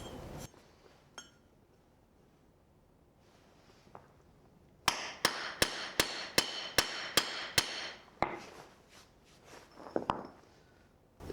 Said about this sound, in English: you just need to score with the chisel a line across the paver on all four sides, rotating it.